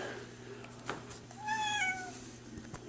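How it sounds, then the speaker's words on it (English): A single cat meows once, a clear rising-then-falling cry lasting under a second, over a quiet room with a low steady hum. "And that's my cat."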